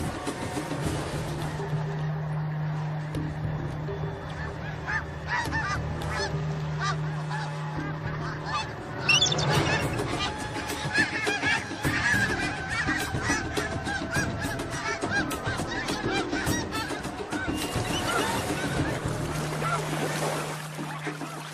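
Snow geese honk in a dense, overlapping chorus as they swerve through evasive flight maneuvers while an eagle chases them, the calls growing busier and louder partway through.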